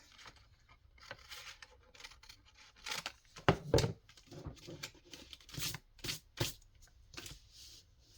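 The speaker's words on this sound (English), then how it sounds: "then I think I'll just cut this off here." Scissors cut through vintage inked paper for a handmade craft journal, a loose run of quiet, close snips and rustles that cluster more densely toward the middle and end.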